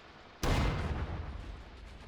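Gunfire and artillery in the video game Iron Harvest 1920, set during a night raid, burst in as a loud, sudden blast whose rumbling roar lingers and slowly fades over the next couple of seconds.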